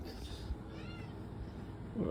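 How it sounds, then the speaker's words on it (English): A house cat gives a pair of close, drawn-out meows that sound almost like speech, followed by a brief rustle. "Did my cat just talk to me?"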